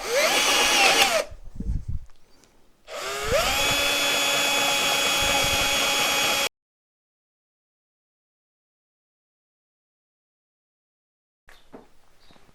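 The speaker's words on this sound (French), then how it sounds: "j'ai fini de repercer mon trou" A power drill on a drill press whirs in two bursts, re-drilling a hole, a short one and then a longer steady run, before it stops and the room goes quiet.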